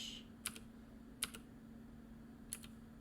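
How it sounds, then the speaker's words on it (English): A few separate sharp keystrokes on a mechanical keyboard with Cherry Blue switches, three crisp clicks spread over a few seconds above a low steady hum, quiet and close. "I know mechanical keyboards are great for typing, but they're really noisy. And these are cherry blues as well"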